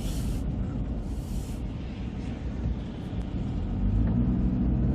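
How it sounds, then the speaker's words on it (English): A truck drives and turns on a snowy city street in Charlottetown, Prince Edward Island, a steady low engine rumble with tire noise, rising slightly near the end. "tight driving for the guys in the trucks"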